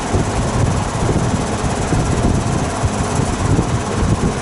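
A vintage GE box fan on its high speed setting gives off a loud, continuous whooshing roar of moving air, steady and close with no pauses.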